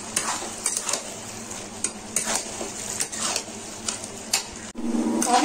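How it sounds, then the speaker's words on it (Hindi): Boiled chickpeas are stirred and fried with masala in a pan, with a steady sizzle under repeated scraping strokes of a spoon against the metal and brief clinks of utensils. "काबुली चना को मसाले के साथ फ्राई करेंगे।"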